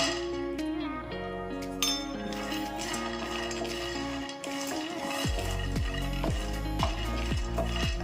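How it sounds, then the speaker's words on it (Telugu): Peanuts and cashews rattle and clink against a hot pan as they are tipped in and stirred, with metallic scraping over a steady background hum; no voices are heard. "ఇప్పుడు ఇందులో పల్లీలు జీడిపప్పు వేస్తాం"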